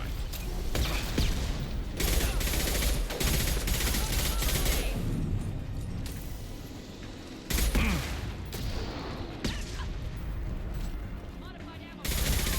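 Rapid rifle gunfire in a video game, sustained bursts of loud automatic shots with brief pauses, close and dominant, with a voice talking over parts of it.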